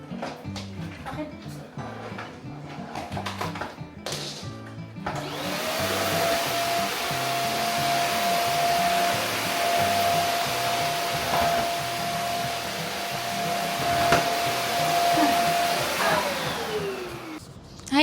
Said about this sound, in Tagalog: Magva-vacuum tayo.